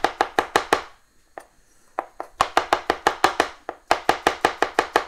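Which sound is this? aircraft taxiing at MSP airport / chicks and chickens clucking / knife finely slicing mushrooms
knife finely slicing mushrooms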